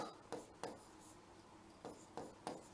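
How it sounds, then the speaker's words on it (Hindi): Marker or chalk writing on a board during a sociology lesson: a handful of short scratchy strokes in irregular rhythm, close and fairly faint, with no talking. "एक सेकेंड इसको मैं जो है वो सही लिखती हूँ"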